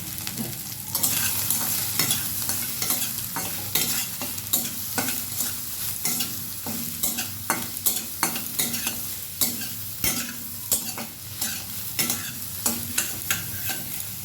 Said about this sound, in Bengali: সোয়াবিনগুলোই কিন্তু আমি আবার ভেজে নিচ্ছি